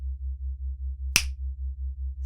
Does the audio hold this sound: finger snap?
yes